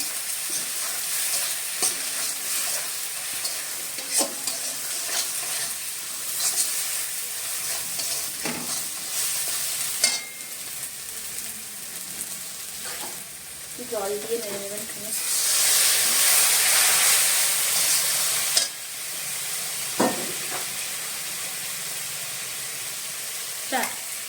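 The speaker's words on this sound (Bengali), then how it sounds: "লঙ্কা গুঁড়ো এক চামচ মতো দেবেন লঙ্কাটা একটু ভালো করে নেড়ে নেবেন" A spoon stirs chili powder into a katla fish head curry frying in a pan, with a steady sizzle and a scraping, stirring rhythm. A louder burst of hiss comes midway, and a voice speaks now and then.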